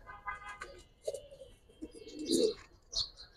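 Giribaz high-flyer pigeons coo softly in a few short, scattered bursts with faint chirps, fairly quiet and close against a near-silent background.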